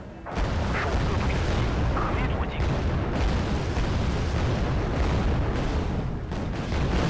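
Missile explosions pound continuously in the video game Wargame: Pearl of the Orient, a dense, loud rumbling barrage of booms and blasts with little pause across the whole stretch.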